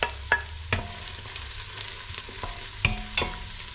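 Garlic sizzling in a pot as it is stirred while cooking native chicken tinola, a close crackling hiss punctuated by several sharp scrapes and clacks of the utensil against the pot, no talking.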